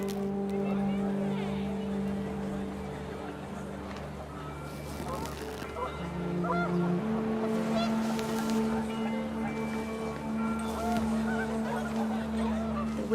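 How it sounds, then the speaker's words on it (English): Panicked geese honk in a windy outdoor scene of the game What Remains of Edith Finch, a cluster of harsh honks under a steady low rumble while a voice speaks over the scene. "The wind picked up, and panicked geese appeared and quickly went."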